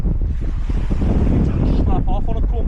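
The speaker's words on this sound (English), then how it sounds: "Wind's picked up a bit now." Strong, steady wind buffets the microphone on the bank of the River Mersey during a sea-fishing trip, a continuous close roar with no letup.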